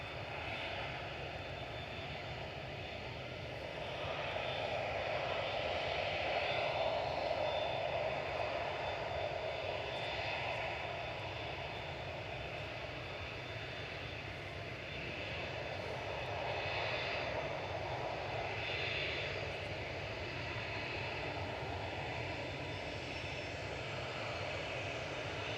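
Ryanair airliner operated by Malta Air departing Manchester Airport for Cork, a distant steady engine roar that swells gently and holds over a wide outdoor background.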